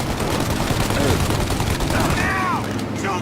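A gun battle in Mafia Definitive Edition throws out rapid bursts of gunfire, dense and loud, with several crisp shots near the end over a busy backdrop of combat noise.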